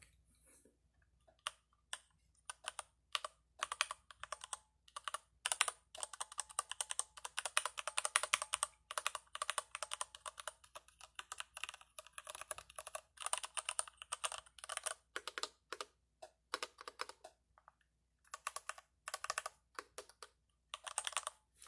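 Fast, bursty typing on a Varmilo VA87M Moonlight mechanical keyboard with linear switches, keys clacking in quick runs with brief pauses, close and fairly quiet, with no talking.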